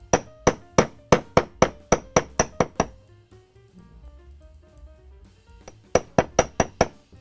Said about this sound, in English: I'm just gonna hammer the end right here to kind of give it a little bit